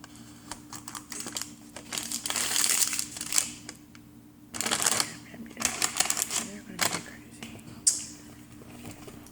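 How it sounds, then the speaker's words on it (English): Parchment paper crinkles and rustles in bursts close by, with crisp crackling handling noises between quieter pauses. "lay down the parchment, helps the parchment stick to the paper"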